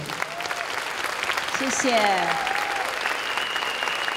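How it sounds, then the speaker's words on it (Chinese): Audience applause at a closing and handover ceremony, sustained clapping from a crowd with a voice speaking briefly over it. "给他们一个最热烈的掌声"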